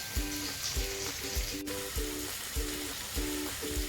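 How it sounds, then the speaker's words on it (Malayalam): Chopped ingredients sauté with salt in a pan for mackerel curry, a steady sizzle broken by regular, rhythmic scraping strokes of a stirring utensil, close and even, with no talking. "ഇനി ഇത് നന്നായിട്ട് ഒന്ന് വഴറ്റി എടുക്കണം"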